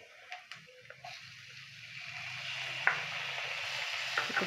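Onion, tomato and turmeric sauté in a pan over a high flame for corn chiwda. The steady close sizzle builds gradually, with a few soft stirring clacks near the start and middle.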